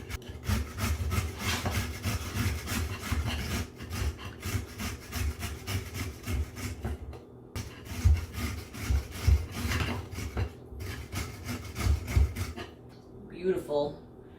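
Peeled beets are rubbed against the largest holes of a grater in steady, rapid rasping strokes, close and continuous, with a voice talking over parts of it.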